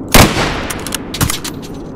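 In Escape from Tarkov, a sharp sniper rifle shot cracks loudly up front, followed by a lingering tail and a second fainter report about a second later.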